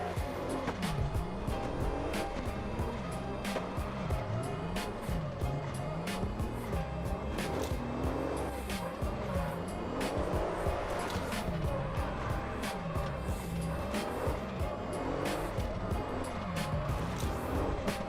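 Car drifting in CarX Drift Racing Online, engine revving up and down in repeated sweeps with tires squealing and skidding throughout, steady and close, with no talk.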